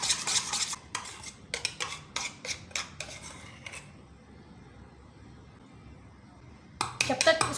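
Homemade cracked-heel cream, still slightly warm, whisked in a bowl into a smooth paste: quick scraping strokes in close bursts, a quiet pause in the middle, then another brisk flurry at the end.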